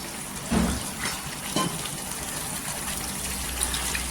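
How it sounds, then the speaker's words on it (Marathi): Water pours and gushes briefly into a pan for matki rassa, with a couple of short splashing bursts over a steady background hiss. "इथे आहे ना पाणी टाकायचं।"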